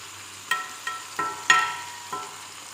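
Spoon stirring spices frying in a pan for an Assamese fish fry, giving five sharp scraping clicks spaced about a third of a second apart over a faint steady sizzle, close and moderately quiet.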